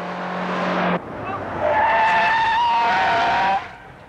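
A car brakes hard, its tires letting out a long, wavering squeal for a couple of seconds after a short burst of engine noise.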